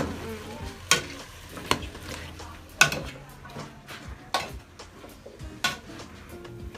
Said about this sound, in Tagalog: So, umpisa na po natin ilaglag lahat. Nang dahan-dahan.